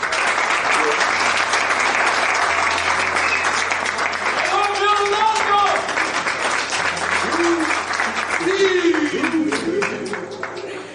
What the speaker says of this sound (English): ladies and gentlemen, another round of applause to our great player and star